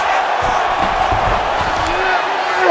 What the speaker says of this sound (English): Crowd may be drunk, but they're absolutely loving it.